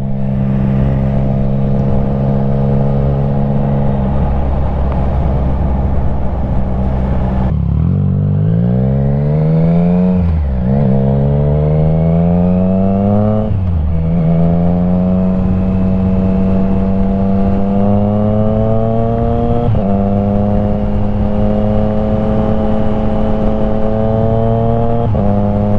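Triumph Trident 660 motorcycle fitted with a Firetong full exhaust drones loudly and continuously while riding, rising and falling through gear changes and shifts of throttle, with no talk over it.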